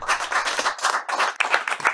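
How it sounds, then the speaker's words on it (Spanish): Audience applause at a Sadhguru talk, steady dense clapping from many hands filling the whole stretch at moderate loudness, with no voices over it. "Por favor, una ronda de aplausos para Sadhguru."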